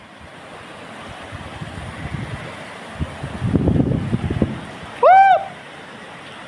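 A swift current on the Tripe Jaya river, strong enough to sweep away a car, as a steady broadband rush that swells briefly louder midway, with a short high chirp near the end.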